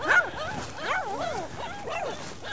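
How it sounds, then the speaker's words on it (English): Puppies trapped underground in a deep muddy hole whimper and yip during a rescue in rain and mud, a series of close, wavering high-pitched cries, with a voice faintly underneath. "The Michigan Humane Society saves 11 puppies who were trapped underground."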